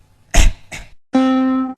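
One sharp, close cough followed by a second shorter cough, then a brief voiced, sustained groan-like tail; loud and clear, with no other sound around it.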